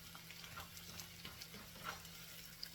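Home fried potatoes with red onion sizzling in a pan, a continuous soft crackle and hiss with scattered pops, heard close and fairly quiet.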